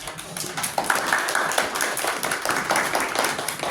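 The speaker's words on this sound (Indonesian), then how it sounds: "Oke, kita beri aplaus untuk kelompok gerakan." Audience clapping after a group's classroom presentation, a steady patter of many hands sustained throughout at moderate loudness, with faint chatter underneath.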